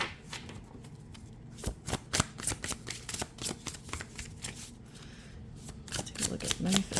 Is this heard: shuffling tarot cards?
yes